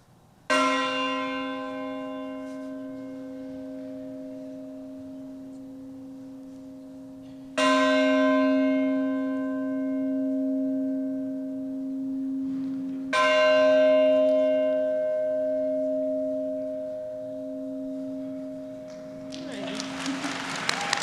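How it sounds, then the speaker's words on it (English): The historic Arsenal bell rings three times at a university professionalism forum, each loud struck tone ringing out and sustaining for several seconds before the next strike, with faint room noise at the end. "to my classmate, Anthony Basali, who will be ringing the Arsenal bell"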